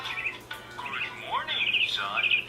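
Birds chirp and tweet from a talking picture book, a recorded background of bright repeated calls with a rising whistle, heard alongside a speaking voice.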